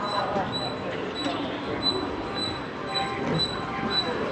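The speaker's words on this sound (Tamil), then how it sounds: "கிளம்புது ட்ரெயின்" Passenger train pulling out of a station on a long journey from Coimbatore to Thiruvananthapuram, wheels rumbling with faint high squeals, heard from on board as people talk in the background.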